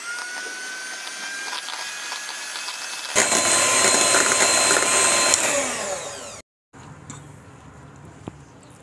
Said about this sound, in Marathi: आता आपण ह्याला पुन्हा एकदा बीटरच्या सहाय्याने मिक्स करून घेऊयात